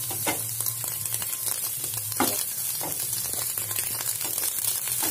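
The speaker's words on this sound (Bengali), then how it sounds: "আমার ডিম আলু ভাজা প্রায় কমপ্লিট" Egg and potato frying in a pan, a steady close sizzle with occasional sharper crackles and stirring scrapes throughout, no talking.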